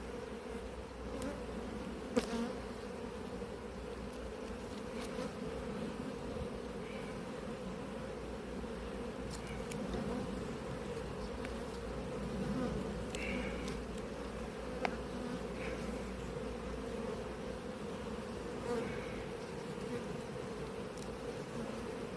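Honeybees buzz around an open hive in an apiary as frames of pollen are inspected, a steady, dense, close drone that continues without a break under a few faint clicks.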